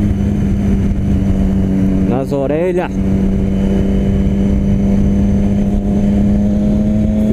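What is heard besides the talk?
motorcycle roaring with new exhaust while riding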